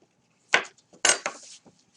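A weaving knife is turned on edge in the warp shed: two close, short clattering knocks about half a second apart, each with a light rattling tail, in an otherwise quiet room.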